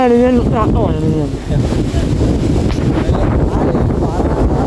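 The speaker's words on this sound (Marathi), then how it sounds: "वारा तुफानी वारा सुटला आहे. जबरदस्त तुफानी वारा." Strong gusty storm wind over the Koyna River roars and buffets the microphone, with a voice briefly audible at the start.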